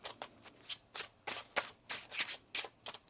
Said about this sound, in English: 1 more shuffle.